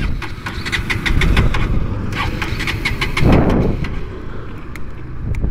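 Bajaj Pulsar NS 200 motorcycle engine running nearby, a steady low rumbling idle with a brief swell in the middle, no talking.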